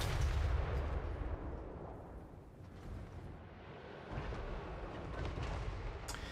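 Grand Cannon fire and battle rumble from a Total War: Warhammer III land battle, a dense, loud stream of overlapping booms and crackling impacts, heaviest at the start and swelling again near the end, with no talk.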